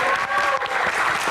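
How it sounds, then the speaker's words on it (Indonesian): Brief burst of audience clapping at a live talk-show event with a band on stage, loud and dense, with a voice faintly over it. "Tepuk tangan sekali lagi."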